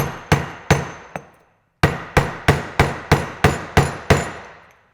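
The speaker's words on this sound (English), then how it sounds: "I chose a deep well socket that is the right size to help me tap that into place." A hammer strikes a deep well socket to drive a part into a Ford tractor hydraulic piston pump, about eleven sharp, close metallic blows in a steady rhythm, broken by one short pause.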